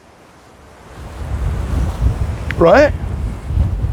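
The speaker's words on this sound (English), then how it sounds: "God, it's really windy" Steady outdoor wind rumble buffeting the microphone, with a short spoken word partway through.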